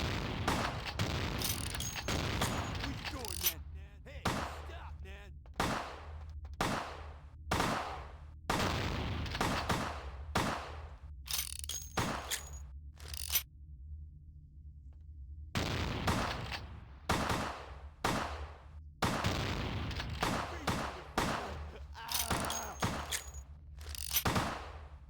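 Gunfire in the game Vampire the Masquerade: Bloodlines, with sharp shots arriving in irregular volleys of single cracks and quick bursts, separated by short quiet gaps.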